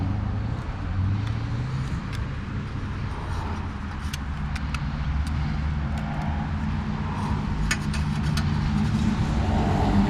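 A loud Ford Falcon engine at a race track, a low, continuous drone with sharp ticks and pops on top, holding steady at close range for about ten seconds with no talking.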